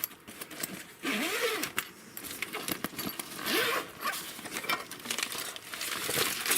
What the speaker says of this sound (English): when you open this up, there's the zipper